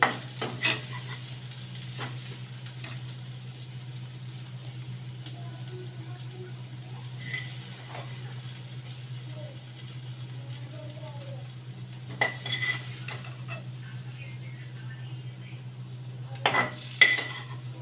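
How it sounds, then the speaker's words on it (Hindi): Tempering being added to a besan and yogurt kadhi with pakoras and stirred in a pot: faint scattered clinks of a spoon against metal and soft stirring over a steady low hum, with a few sharper knocks near the end. "अब मैं इसमें जो मैंने तड़का तैयार किया है मैं उसको ऐड करूँगी।"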